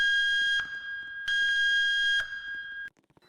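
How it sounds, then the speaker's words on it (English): Emergency evacuation alarm in the Roblox game Camping: loud piercing electronic tones sound in two long bursts, then a third cut short, followed by near silence. "your free time will be interrupted by the emergency alarm system, alerting us for an emergency evacuation"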